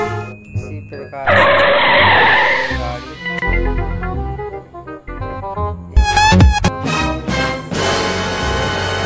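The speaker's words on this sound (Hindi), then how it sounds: "तेज भाग रही है गाड़ी अपनी।" A racing car in a car racing video game speeds and skids, with loud tire squeals and screeches, revving engine noise and bursts of game effects, while a voice talks at points.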